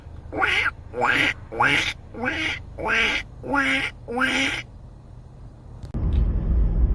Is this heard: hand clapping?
no